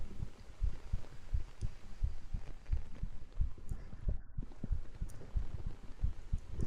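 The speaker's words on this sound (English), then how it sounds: "Can you guys hear my heartbeat?" Steady heartbeat thumps, low and close, pulsing in a regular double-beat rhythm throughout, with a soft hum underneath; a request-driven ASMR livestream setting.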